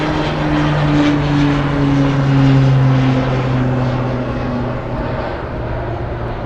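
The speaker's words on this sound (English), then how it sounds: "We also have a FedEx 777 on the move." A FedEx Boeing 777 cargo jet moving at Anchorage airport, its steady engine drone holding loud and continuous with low tonal hums that rise slightly and then ease off.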